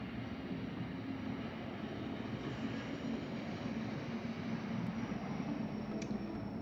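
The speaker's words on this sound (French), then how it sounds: "on a des avions qui volent juste au-dessus de notre maison, comme vous avez pu l'entendre." Airplanes flying low over a house make a steady, broad roar that holds at a constant level for several seconds. The sound stays distant and unbroken, with no talking.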